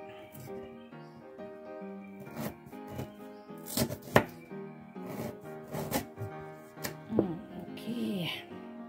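Galangal sliced or crushed on a board while preparing bobor of napa cabbage and tofu, giving several sharp, irregular chopping and pounding knocks under background music.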